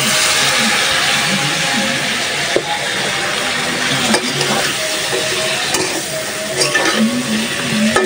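Shrimp curry cooking in a pan as fresh green vegetable stalks are stirred in, with a steady sizzle and frying hiss, scraping stirs and occasional clinks of a utensil against the pan.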